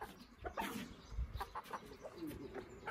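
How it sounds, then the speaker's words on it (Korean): A chicken clucks in short, irregular bursts close by, with faint rustling and scratching between the calls. "닭이 나온 것 같아요"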